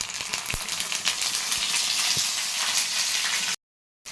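Ginger paste frying in hot oil in a pan with dried chilies, a steady bright sizzle with a few small pops, cutting off abruptly near the end.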